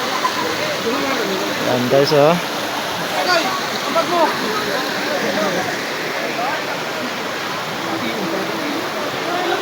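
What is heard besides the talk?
overflowing river flowing at a spring resort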